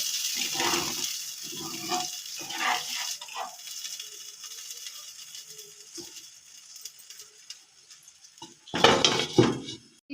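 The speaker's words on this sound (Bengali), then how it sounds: "আলুটা সিদ্ধ হওয়ার জন্য আমি কিছুটা জল দিচ্ছি" Water is poured into a pot of potatoes that have been frying in oil, with clanking pot and spoon noises, a quiet pause, then a loud metallic clatter as the lid goes on.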